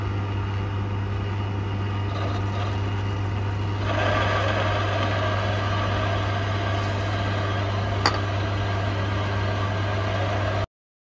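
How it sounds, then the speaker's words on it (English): Steady machining hum from a lathe cutting the pin diameter of a key for a rim lock, continuous and fairly loud with a slight rise partway and one brief click. "now I'm going to start cutting the pin diameter."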